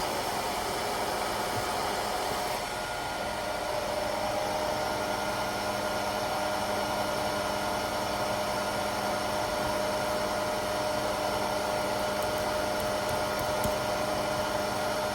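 A steady, loud mechanical whir runs without pause, an even motor drone with a hissing airflow layer and a low hum underneath, from a vacuum pump holding work on a CNC router fixture.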